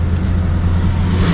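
A 12-valve Cummins diesel truck on the road gives a loud, steady low engine drone for a brief moment, with no voices.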